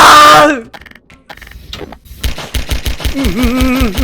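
A futuristic gun in Garry's Mod fires a fast, regular burst of loud, punchy shots in the second half, with groaning, moaning voices layered over the gunfire and softer scattered sounds before it.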